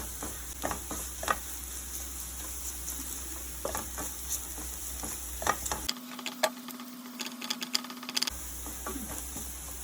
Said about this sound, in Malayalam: ഉരുളക്കിഴങ്ങൊക്കെ വെന്തോ ഇതിങ്ങനെ ഫ്രൈ ആയി വരുന്നുണ്ട്